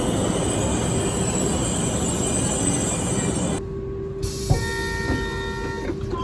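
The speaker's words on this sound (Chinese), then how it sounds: "我们的列车马上就要进站了。 那么这趟车是由 CRH2A 担当的" A CRH2A high-speed train pulls into a station on the Shanghai airport link line, a loud steady rumble and roar of rolling stock that drops away, followed by quieter tonal hums and a few clunks.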